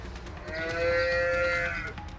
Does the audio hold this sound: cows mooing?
yes